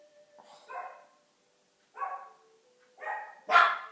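Dogs bark in four separate bursts spread over a few seconds, each one short and fairly close, and the last bark is the loudest, with quiet gaps between them.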